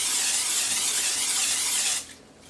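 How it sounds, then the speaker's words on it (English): Olive oil cooking spray hisses loudly and steadily into the inside of a crock pot for about two seconds, then cuts off abruptly. "So I'm just going to spray the inside of the crock pot with olive oil spray as usual"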